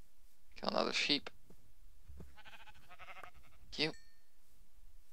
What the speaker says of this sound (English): Another sheep.